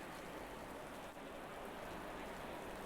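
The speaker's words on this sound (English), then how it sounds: "And it is raining. Yeah, it is raining." Steady rain falls during a race at Brands Hatch in the Assetto Corsa Competizione racing game, a dense, even patter that holds unbroken throughout.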